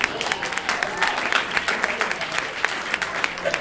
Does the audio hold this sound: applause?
yes